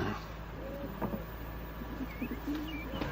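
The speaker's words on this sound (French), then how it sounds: "Des pigeons." Pigeons cooing softly in the distance, a few low, rounded coos scattered over a steady background hum, with no talking.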